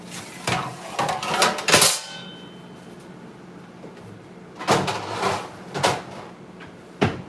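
A macaron tray slides into an Oster countertop oven, giving a few clattering metal knocks and scrapes in short bursts, a pause, then more handling clunks near the microphone.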